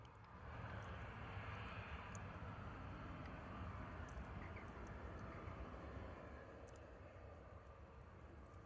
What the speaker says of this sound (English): gorgeous departure there from the Airbus A320 from EasyJet heading out to Porto